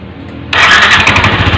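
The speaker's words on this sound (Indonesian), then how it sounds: "Kemudian akan kita starter, hidupkan mesinnya." Yamaha NMAX scooter engine starting with a sudden catch after a quiet moment, then settling into a steady, loud, close idle with no talking.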